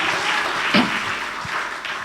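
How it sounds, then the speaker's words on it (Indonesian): A church congregation at a Sunday worship service in Batam claps together, a moderate, even patter of applause with a brief louder bump partway through. "Beri tepuk tangan lagi buat Tuhan Yesus."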